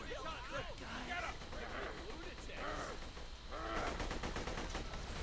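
Rapid gunfire in Borderlands The Pre-Sequel during a boss fight, steady repeated shots under frequent talking, growing denser near the end.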